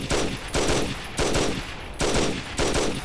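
Gunfire in the video game Battlegroup 42 crackles in loud, close bursts, several rapid machine-gun volleys separated by short pauses, with no talk over them.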